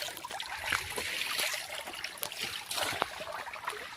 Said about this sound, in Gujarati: આ બાજુ પલ છે અને તલાવમાંથી પાણી આવે છે